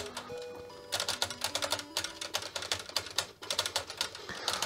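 Keys clatter on a Philips VG 8235 MSX2 computer keyboard while a game is played: a rapid, irregular run of close, crisp clacks and taps, quiet overall and with no speech.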